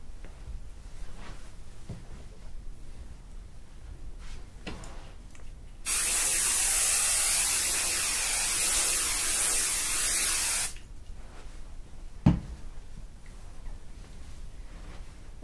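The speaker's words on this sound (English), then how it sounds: "if the edges aren't quite tight, then I'll just spray a little bit right there" A can of basting adhesive sprays onto quilt batting in one steady, close hiss lasting about five seconds, set amid quiet room sounds.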